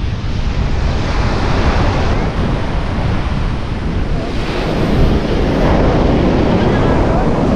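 Ocean waves surge and break steadily on a shore at Dingalan, Aurora, loud and continuous with heavy wind buffeting the microphone, while voices talk faintly beneath the roar of the surf.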